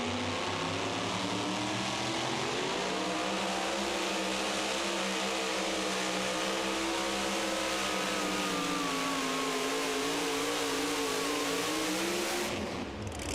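A super modified two-wheel-drive pulling truck drags a sled down the track at a Hillsboro, Wisconsin truck pull, its engine a loud, continuous high-revving roar that climbs and wavers in pitch for many seconds.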